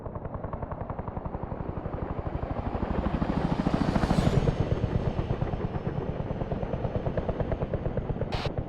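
Helicopter rotor chop from an aircraft in the video game Arma 3, a steady rapid thumping that swells louder around the middle as the engine whines higher, then settles back to a constant drone.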